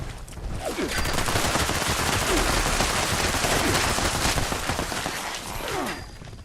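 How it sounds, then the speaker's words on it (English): Sustained gunfire from Fallout 76, steady bursts of shots rattling continuously through the stretch, loud and dense with a few sharper cracks standing out. "Somebody seems to be shooting at me."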